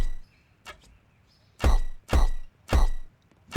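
A new archer enemy in an RPG kit video game fires shots as three loud, evenly spaced thwacks, each a sharp burst with a short tail, preceded by a fainter click.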